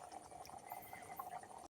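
Raival mango raita mixture bubbles at a rolling boil in a pot, a continuous soft burbling and popping with no talk over it, ending abruptly.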